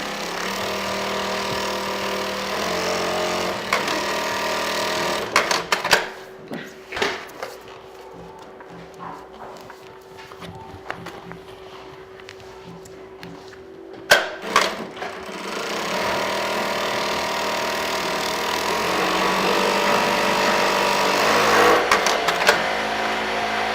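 A sewing machine stitches fabric for a small craft bag, its whirring run starting and stopping with a few sharp clicks in between, close and fairly loud, with no talking.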